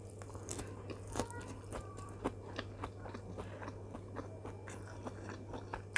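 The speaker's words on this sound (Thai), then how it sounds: "อันนี้ยอดมันปูกินครั้งแรกนะคะ" Someone bites and chews crisp young yam shoots, tasting them for the first time. Close, soft crunches and chewing noises recur steadily over a faint constant low hum, with no talking.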